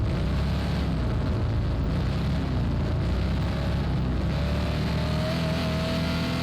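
A diesel car engine in an Android driving game gives a steady, droning hum with low rumble filling the whole stretch, continuous and fairly loud, with no talking.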